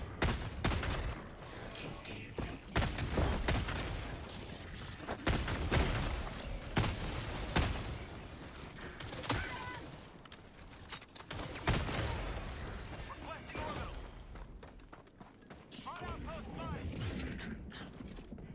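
Rapid bursts of fire from the Dominator weapon in a combat video game, loud repeated shots in clusters over mechanical clatter and game noise, with a voice talking at times.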